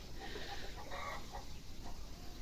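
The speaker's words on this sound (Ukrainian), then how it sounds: "Курка десь знеслася, мабуть, кричить, чого вона кричить." A hen clucks and cackles repeatedly at a distance after laying an egg, faint against a constant background hiss.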